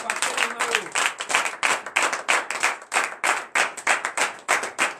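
A church congregation at a morning prayer service applauding God, loud rhythmic group clapping in steady repeated bursts close by, with a voice briefly audible at the start.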